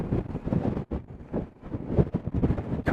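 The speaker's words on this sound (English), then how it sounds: "I think it's just too windy here." Strong wind on an exposed Patagonian road buffets loudly in uneven gusts, a rough roaring rush close to the microphone with brief lulls.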